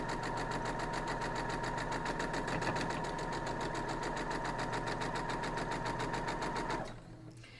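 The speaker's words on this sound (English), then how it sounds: "we're going to sew these down through just like the other one" A sewing machine runs in one steady, fast stitching burst while sewing pieces of an Aunt Malvernia quilt block, humming evenly for nearly seven seconds before stopping abruptly, leaving quiet room noise.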